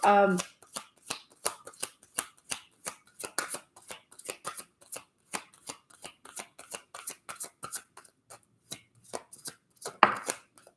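A deck of oracle cards is riffled and bridged over and over, a long run of crisp flapping bursts at a close, steady pace, with a louder shuffle toward the end.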